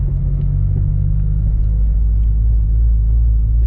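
A turbocharged Toyota GT86/Subaru BRZ engine rumbles steadily from inside the car as it pulls over, a deep continuous low drone holding constant loudness with no talking.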